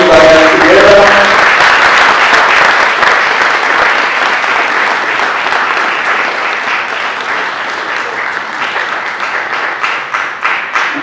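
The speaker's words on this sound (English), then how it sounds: "Let's continue to clap and clap and clap and clap." Loud, sustained applause from the audience at the launch of a World Bank-supported food system resilience program for agriculture in Tanzania, a thick wash of clapping that slowly thins toward the end as a brief voice fades out at the start.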